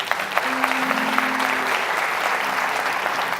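A church congregation at a Brazilian celebration service applauds together, steady dense clapping from a large crowd that fills the room throughout.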